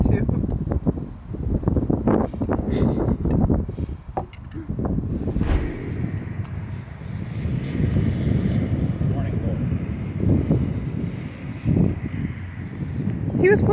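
Wind gusting outdoors at a beach town, buffeting the microphone with steady rumbling wind noise throughout, while people talk close by.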